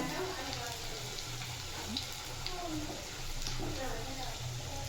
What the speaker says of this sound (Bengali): এই দেখো ভাজা শুরু হয়ে গেছে